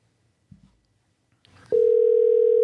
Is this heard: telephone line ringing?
yes